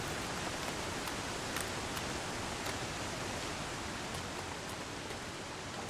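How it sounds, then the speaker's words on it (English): Steady, dense rushing water pours without pause, a constant broadband roar from a waterfall in the video game The Long Dark, heard from fairly close. "That's a really loud waterfall."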